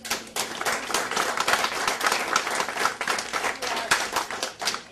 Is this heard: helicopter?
no